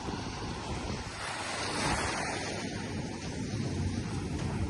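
Ocean waves wash and surge near a riverside crab-catching spot, a broad rushing roar mixed with wind noise on the microphone, steady and fairly faint.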